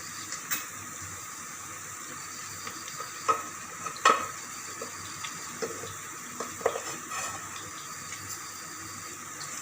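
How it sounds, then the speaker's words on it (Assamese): Rice is added to carrots frying in a pan for pulao and stirred in, with scattered scraping and stirring clatters over a soft, steady sizzle, moderately close and without talk. "তাৰপিছত মই এতিয়া চাউলখিনি দি দিম।"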